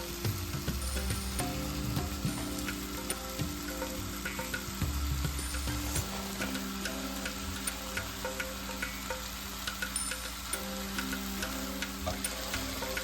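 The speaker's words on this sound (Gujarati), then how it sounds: "એની અંદર હવે ફ્લાવર નાખી દઈશું." Cauliflower florets, cut into medium pieces, frying in a pan for a no-onion cauliflower and potato curry: a steady sizzle with occasional clinks and stirring scrapes, close and continuous with no talking.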